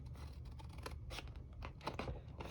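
Scissors snip steadily through stiff, heavy card in a run of close, crisp cuts with short pauses between strokes, over a low background hum.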